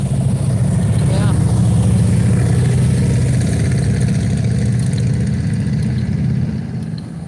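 A Ford F100 pickup truck at a truck cruise event in Gatlinburg idles loudly and steadily close by, a deep continuous rumble, then drops slightly in level near the end.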